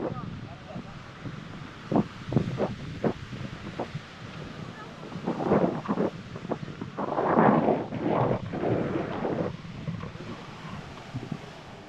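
Strong wind blowing at Promenade Beach in Pondicherry at night, buffeting the microphone in gusts that swell and fade, with a low rumble of waves against stones underneath.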